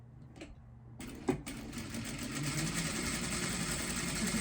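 A sewing machine runs continuously, stitching blouse fabric at the sleeve and back, a steady mid-level whir that starts after a moment of quiet handling and carries on to the end.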